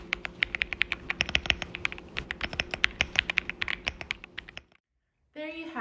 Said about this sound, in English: here's a sound test using voice memos for enhanced quality